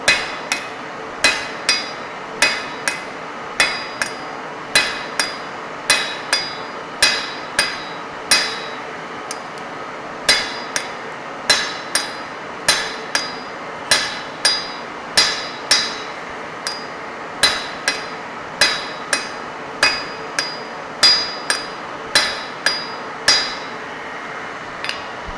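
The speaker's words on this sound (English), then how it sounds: "grip the hammer at the end of the handle and then apply force on the job" A hand hammer forges a hot metal job on an anvil in a workshop with steady, ringing blows, roughly two a second, with brief pauses between runs of strikes and no voices.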